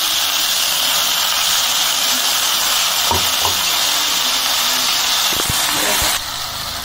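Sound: ground spice paste frying in pan for katla fish curry

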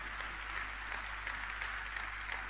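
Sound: concert audience applause

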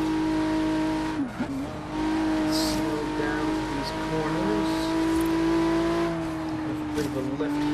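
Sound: car engine revving in Forza Horizon 3 video game

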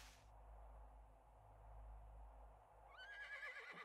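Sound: deer neighing like a horse in video game 7 Days to Die

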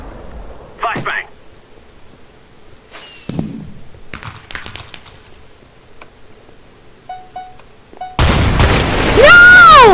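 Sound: flashbang grenade in Minecraft Minestrike video game

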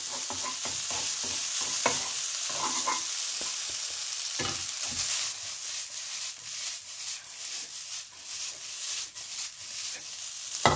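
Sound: stir-frying garlic fried rice with pork sausage

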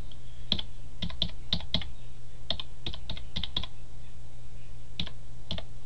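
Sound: typing a web address on a computer keyboard

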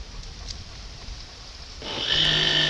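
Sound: machine processing coconut to make coconut milk

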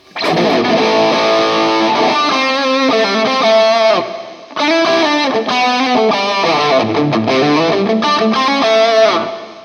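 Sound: electric guitar through M-VAVE Cube Baby multi-effects with reverb

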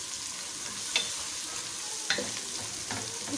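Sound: ginger garlic paste sautéing with garam masala

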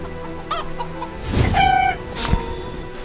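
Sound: chickens clucking in video game Divinity II

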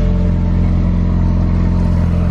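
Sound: car engine warming up

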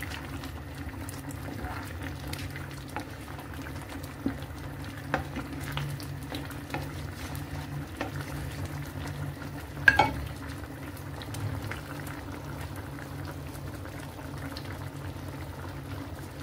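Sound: stirring veggie bolognese sauce in a pan

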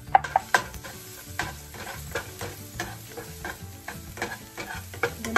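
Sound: garlic frying and being stirred in pan

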